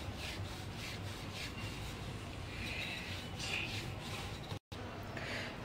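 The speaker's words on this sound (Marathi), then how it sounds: "आता ही भाकरी आपण पिठावर लाटून घेणार आहोत." Rice-flour bhakri dough is rolled on a flour-dusted surface in soft, repeated rubbing strokes, close and fairly faint, with no talk.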